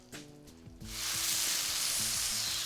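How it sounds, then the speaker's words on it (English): Mushrooms and bacon sizzle loudly in a frying pan during stir frying, a steady bright hiss that swells after a moment and holds, with faint clanking of utensils underneath. "we're just gonna let that moisture cook off the mushrooms"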